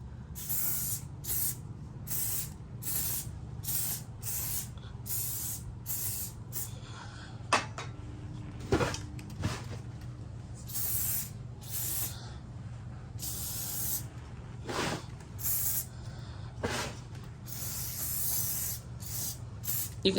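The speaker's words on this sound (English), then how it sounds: "you just spray the leaves top and bottom with a light mist" A spray bottle lightly mists the leaves of a dracaena (dragon tree) houseplant from about a foot away, giving repeated short hissing bursts in an irregular rhythm, each a soft, airy spritz over a low steady hum.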